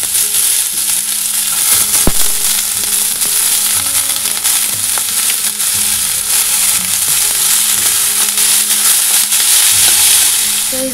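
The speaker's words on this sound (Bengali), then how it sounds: "শুকনো লঙ্কা আর এই যে কালো জিরা ফোড়ন দিয়ে পেঁপে ভেজে নেব" Papaya slices frying in hot oil with dried red chilli and nigella seeds, a steady loud sizzle with crackling that holds throughout, alone with no talk.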